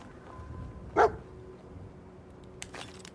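A dog in the video game Fallout 4 lets out a single short bark, fairly close and clear, over a quiet game background. A faint click follows later.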